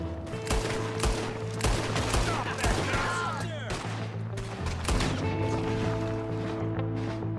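Rapid bursts of gunfire from a shootout in the video game Red Dead Redemption 2, loud repeated shots in irregular volleys layered over a steady low background drone, with a brief swooping whistle midway.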